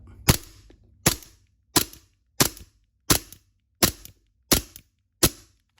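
A WE M92 gas BB pistol fires eight sharp, evenly spaced shots about 0.7 seconds apart, each a loud crisp crack with a short tail, close by and with no voices.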